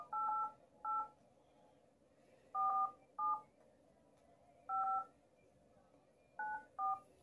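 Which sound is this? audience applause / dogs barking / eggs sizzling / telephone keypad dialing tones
telephone keypad dialing tones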